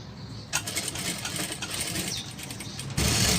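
A sewing machine stitching a handmade cloth mask: steady mechanical whirring and rapid needle clatter runs throughout, rising to a louder, denser burst in the final moments, with no speech.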